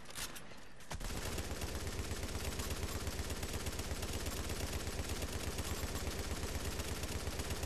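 Sustained automatic gunfire from The Division video game, a dense unbroken stream of rapid shots after a brief quieter start, loud and close with no talking.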